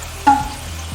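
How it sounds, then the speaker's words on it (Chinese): Honey-glazed dried tofu is stir-fried in a pan with soy sauce, rice wine and sugar: a quick spatula scrape, then a soft, close sizzle. "炒一炒， 给它炒入味"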